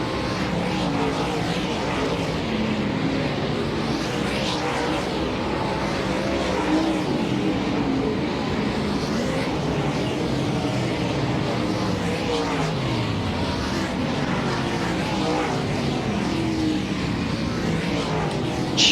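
Dirt track UMP modified race cars roaring around the final lap of a night feature, a continuous loud engine drone with passing surges from the pack, no talking.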